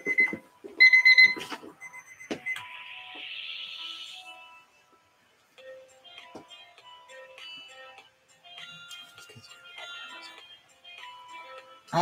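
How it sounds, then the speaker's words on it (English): An auction countdown timer alarm rings in a quick burst of electronic beeps, followed by a rising tone, then softer scattered tones and background sounds. "There's the timer."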